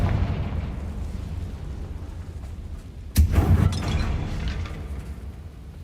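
A Confringo spell in the Hogwarts Legacy video game bursts into one sharp, booming explosion partway through, rising sharply over a steady game background rumble and then rolling off.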